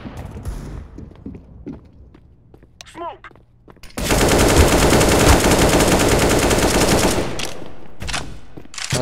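Loud, dense bursts of automatic gunfire from a shooter video game, close and sustained for about three seconds in the middle, with brief quieter shots and faint voices before.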